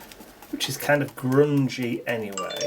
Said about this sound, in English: Excuse the noise of my phone.